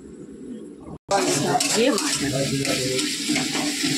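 Spice paste for fish curry frying in a pan: a loud, close sizzle bursts in after a brief lid-lifting pause, with stirring scrapes and someone talking over it, plus faint bird calls in the background.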